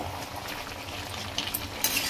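Chicken curry cooking in a pan is stirred, giving a low steady frying hiss with a few brief scraping clinks near the end, fairly quiet and with no talk.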